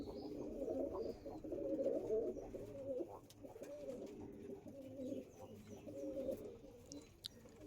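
Andhra Star Kalanka pigeons cooing nearby in a loft, a run of low, rolling coos that rise and fall in bursts over a faint background, with quiet chirps here and there.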